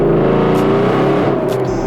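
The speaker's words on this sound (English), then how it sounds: "That was third gear rolling into it." A 2013 Ford Mustang 5.0 pulls hard in third gear on cold, wet pavement, its V8 note rising steadily and close-up for about two seconds.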